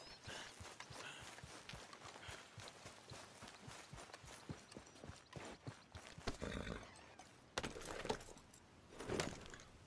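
Horse hooves clip-clop in Red Dead Redemption 2, a run of sharp, uneven knocks close by, joined by jangling tack and a louder burst of movement near the end.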